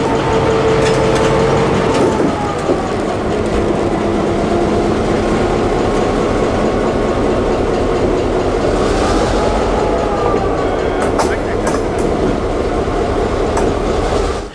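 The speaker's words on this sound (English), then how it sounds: "Engine 7063 is an EMD GP9RM, built in 1958 for the Canadian National Railroad." EMD GP9RM locomotive 7063, built in 1958, switches rail cars on the Florida Central, its loud engine droning steadily as wheels clatter and squeal, with clanks and hisses of air brakes throughout.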